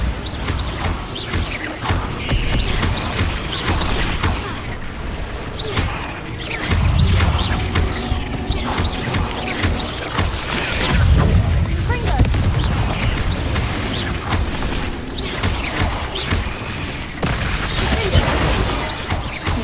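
Bombarda explosion spells go off in a Hogwarts Legacy duel, heavy booming blasts and crashing bursts repeating amid loud, continuous combat noise.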